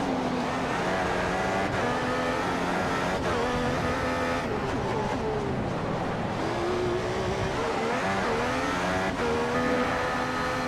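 Formula 1 car engines in the F1 2015 racing game at Monaco whine at high revs, loud and continuous, with pitch rising and falling through gear changes across the lap and no talk over them.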